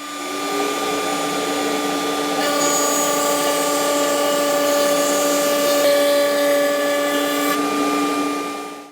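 A woodworking cutter machines thin stock for simple storage boxes, giving a loud, steady, close-up whine with a constant pitch that runs unbroken for several seconds before cutting off.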